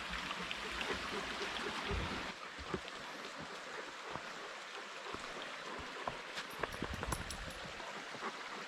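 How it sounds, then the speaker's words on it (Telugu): Water runs steadily over and between rocks beneath a small bridge on a hiking trail, a continuous close rushing wash with no voices. "ఈ రాళ్ళ మధ్యలో నుంచి అట్లా వాటర్ వెళ్తుంటే సౌండ్ చాలా రిఫ్రెషింగ్ ఉంటుంది"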